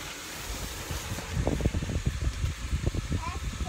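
A fan in a home geothermal system pulls air downward with a steady breathy whoosh close to the microphone, while someone talks over it with buffeting wind noise.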